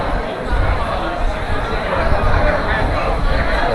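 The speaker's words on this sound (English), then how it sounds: "Look at the crowds. Absolutely packed." A packed crowd at a busy Chinese sightseeing spot with steps lined by umbrellas, producing a dense, continuous babble of many voices at steady loudness, close and enveloping throughout.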